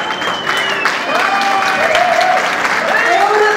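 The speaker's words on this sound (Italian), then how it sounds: "Ancora un grossissimo applauso per Gioia Latina" Sustained applause from a live audience at an evening group performance, dense steady clapping throughout, with scattered cheers and whistles over it.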